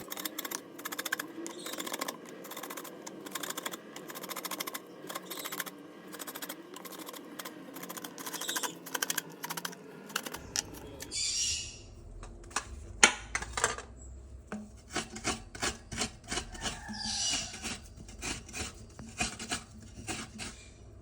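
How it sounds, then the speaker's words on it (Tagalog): Rhythmic rasping scrapes of coconut flesh against a hand-cranked manual coconut scraper in a home kitchen, close and steady, with fast repeated strokes that pause briefly midway before resuming. "So it's me versus the manual coconut scraper."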